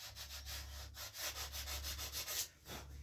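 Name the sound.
sanding rawhide on a paddle bow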